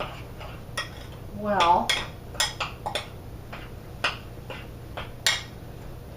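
Spoon clinking and scraping against a mixing bowl while coffee cake batter is blended by hand, in irregular sharp taps with a brief louder scrape, close by, with a short spoken word.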